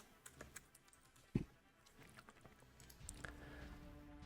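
Someone types a filename on a computer keyboard: soft, scattered key clicks at an uneven pace, quiet and close, with one louder knock partway through and no talking.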